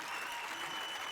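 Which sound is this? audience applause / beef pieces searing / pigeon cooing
audience applause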